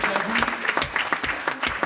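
Audience clapping steadily at a French political rally for the 2024 European election campaign, dense and continuous for about two seconds with no voices over it.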